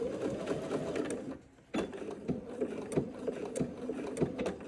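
A sewing machine stitches a dart in fabric, a quiet steady mechanical whir with rapid rhythmic needle ticks, briefly pausing before running on close by.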